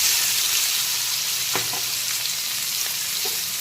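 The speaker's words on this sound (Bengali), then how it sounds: "এখন সবার প্রথমে দিয়ে দেব পেঁয়াজ কুচি" Chopped onion fries in hot oil with whole spices already tempered in the pan, giving a continuous bright sizzle with a few soft stirring clicks.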